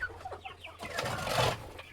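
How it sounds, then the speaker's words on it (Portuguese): Young chickens in a coop make short, high clucks and chirps, several overlapping, close and moderately loud, with a scratchy flurry of movement. "Já tem uns franguinhos entrando aqui."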